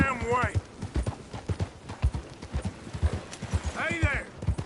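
Horse in Red Dead Redemption 2 walking with steady clip-clop hoofbeats, with neighs or whinnies at the start and near the end, and voices talking over it.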